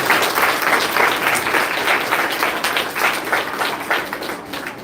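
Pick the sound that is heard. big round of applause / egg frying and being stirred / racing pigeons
big round of applause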